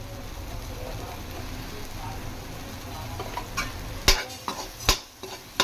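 Almonds and garam masala fry in a large thick-bottomed kadai, a soft steady sizzle under low background hum, followed by a few sharp scrapes and taps of a spatula stirring against the pan.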